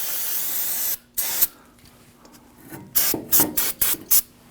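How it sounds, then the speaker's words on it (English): An aerosol can of anti-seize compound hisses in one long spray, then a couple of short bursts, and after a pause a quick series of sharp sprays. "Now I'm going to go ahead and spray some anti-seize compound around here."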